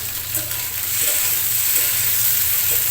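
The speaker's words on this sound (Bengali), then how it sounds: "আমি ফোড়নের উপর ভেন্ডিগুলোকে ভালো করে ভেজে নিয়েছি" Okra fries on a mustard-seed tempering in a pan, a continuous hissing sizzle with a few faint stirring taps, close and steady throughout.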